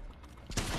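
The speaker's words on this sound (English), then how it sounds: "Shotgun shot." A shotgun blast in the Fortnite battle royale video game, a sudden loud burst near the middle after quieter game audio, ringing out briefly.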